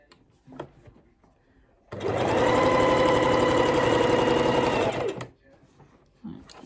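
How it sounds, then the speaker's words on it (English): Sewing machine running steadily for about three seconds while stitching the thick fabric of a doll's leg onto its body, loud and close, with quiet handling noises before and after. "just slow down and sew it carefully so it doesn't jam up your machine"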